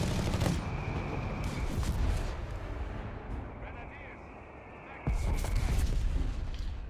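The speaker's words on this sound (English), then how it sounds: "Mortar fire here" Mortar fire from a 3-inch mortar team in the Company of Heroes 3 strategy game, heard as dull booms and rumbling blasts within continuous battle noise, with a commentator's voice talking over it.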